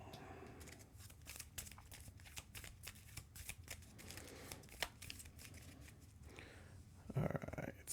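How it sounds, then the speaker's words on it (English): Playing cards being shuffled back into a deck during a Marvel Champions card game, a quiet close run of rapid riffling snaps and flicks, ending with a louder brisk shuffle. "Shuffle her back into my deck"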